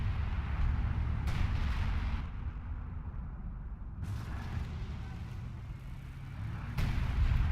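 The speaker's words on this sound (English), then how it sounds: "Yeah, artillery being called down." Artillery fire in a World War II strategy game set at Tilly-sur-Seulles near Caen, heard as a low continuous rumble of distant shelling, with a few dull booms breaking through.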